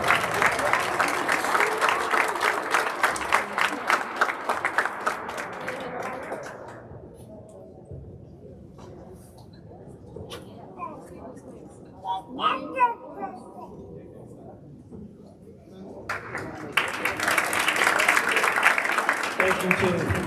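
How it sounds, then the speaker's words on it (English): Audience at a school winter sports ceremony applauding a team, loud crowd clapping at the start that fades into a quieter stretch with scattered talk and children's voices, then swells into applause again at the end. "Give a round of applause."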